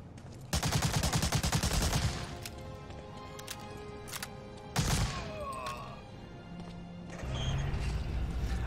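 Gunfire in Medal of Honor: Allied Assault: a loud burst of rapid automatic shots, then scattered single cracks and a second sharp blast amid clattering battlefield noise.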